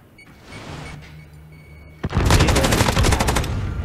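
Kilo rifle gunfire in a shooter video game match, a sudden loud burst of rapid automatic shots after a quieter stretch, the rattling volley continuing to the end.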